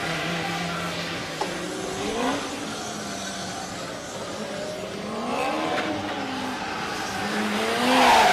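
A Formula Student race car running without aero on the skidpad circles steadily, its engine note rising and falling as it laps, with faint tire noise and a louder surge near the end.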